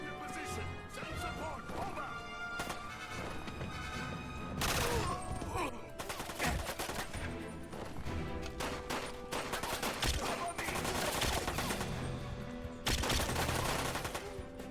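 Pistol gunfire from the Xbox 360 game 007: Quantum of Solace, with sharp repeated shots and bursts cutting through a busy in-game mix of music and effects, loud and steady throughout.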